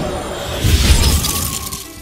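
An icy shattering burst from a freeze effect in the Hearthstone card game, a sudden bright crash of breaking crystal that erupts about two-thirds of a second in and then crackles and fades over the next second, heard alone.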